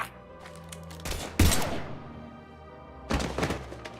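Gunfire in the shooter Mass Effect 3: a few heavy, booming bursts separated by quiet gaps, the loudest in the middle with a short rumbling tail, and no voices.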